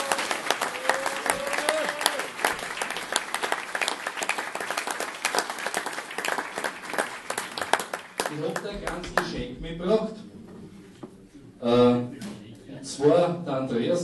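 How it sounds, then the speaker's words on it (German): Hearty audience applause at a regional folk evening, dense and loud for about eight seconds, then dying away as a person starts talking. "einmal einen kräftigen Applaus für die Hertha Gruber"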